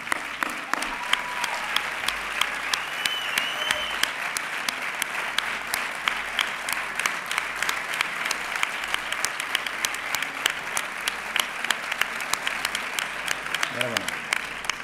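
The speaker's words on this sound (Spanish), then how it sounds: "Fuerte aplauso para Juan Antonio." Strong applause for Juan Antonio at the San Sebastián de los Reyes 2013 sports gala, sustained dense clapping from a large hall audience, loud and even throughout, with faint voices and a brief cheer near the end.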